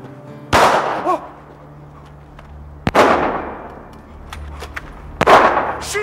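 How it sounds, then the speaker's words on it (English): Three sharp gunshots from a film scene, spaced about two to three seconds apart, each a loud crack with a ringing tail over a low background hum. "She's shooting at us!"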